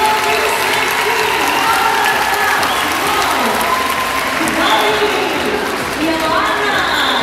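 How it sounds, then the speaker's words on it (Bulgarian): Loud, continuous audience applause at a dolphinarium show in Varna, Bulgaria, mixed with crowd chatter and scattered cheers. "Още аплодисменти!"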